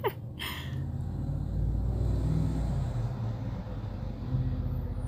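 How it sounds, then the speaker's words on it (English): A school bus drives past outside an open window on a pleasant day, a steady low engine rumble that holds for several seconds and swells slightly near the end. "I have the windows open because it's so nice outside, but there goes a school bus"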